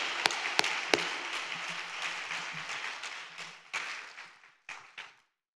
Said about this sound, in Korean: 자, 우리 홍영기 원장 나오실 때에 하나님께는 영광 드리고 우리 목사님 환영하면서 박수로 모시겠습니다.